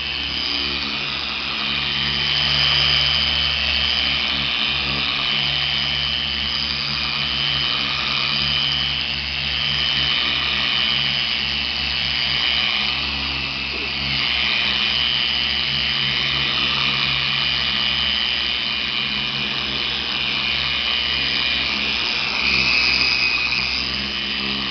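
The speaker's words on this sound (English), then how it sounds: "I got a car buffer pad here that's very soft, microfiber, and for pre-scrubbing" A random orbit car buffer with a soft microfiber pad pre-scrubs upholstery, giving a steady, close, continuous motor whir with slight fluctuations in pressure throughout, no talking.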